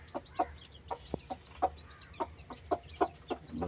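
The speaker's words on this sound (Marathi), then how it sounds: "ती बघा आपल्या कोंबडीने पिल्ले दिलेले दिसत आहेत" A hen with newly hatched chicks on a farm makes repeated soft clucks and short calls in an irregular rhythm, close by, with thin chick peeps over a faint background and no talk.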